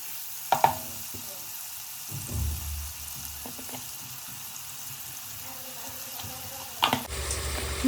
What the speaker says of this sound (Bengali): রসুনগুলো একটুখানি লাল লাল করে ভাজা হয়ে যাওয়ার পর পেঁয়াজ কুচিগুলো দিয়ে দিলাম